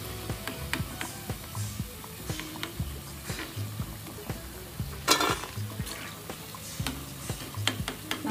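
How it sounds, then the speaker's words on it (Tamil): Soaked idli pieces deep frying in oil for idli manchurian, with a constant bubbling sizzle, light clinks of a ladle and one sharp burst of hiss midway; no talk. "இதை ஆயிலில் பொரிச்சு எடுத்துக்கலாம்."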